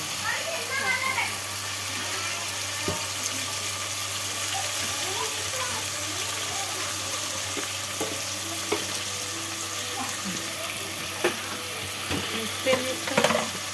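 Tomato rice frying and being stirred in a pan, a steady close sizzle running throughout with intermittent scraping of a spoon, while a person talks over it.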